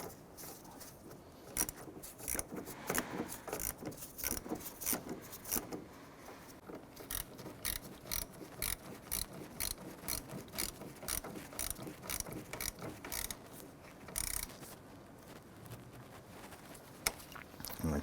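A ratchet wrench snugging down the positive battery terminal on a 2006-2013 Chevrolet Impala, giving rapid, steady clicking in repeated bursts, close and moderately loud throughout.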